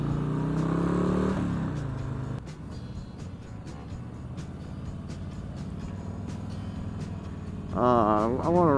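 A 2021 Harley-Davidson Low Rider S motorcycle on a test ride, its engine a steady low rumble throughout, with a person talking over it at the start and the end.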